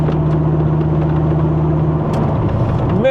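A Dodge Viper's 10-cylinder engine with side pipes idles in a steady, close, deep rumbling drone that holds level, then begins to rise in pitch at the very end.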